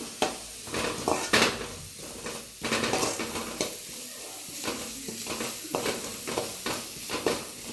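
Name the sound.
sautéing curry masala in a pan for bread masala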